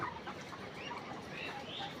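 Layer hens packed five to a cage cluck and murmur softly in a steady, busy chorus, with faint voices in the background throughout.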